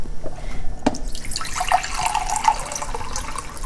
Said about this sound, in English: Then we're just going to add about 5 cups of water.